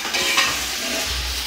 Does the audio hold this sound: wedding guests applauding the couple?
no